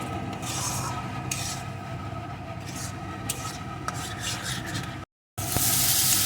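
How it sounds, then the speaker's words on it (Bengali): Spice paste with coconut milk is sautéed for a prawn malai curry: a continuous scraping stir over a soft sizzle, close and steady, with a brief silent gap near the end. "একটু নারকেল দুধ এখন বেশ কিছুক্ষণ ধরে মশলাটা কষিয়ে নেব"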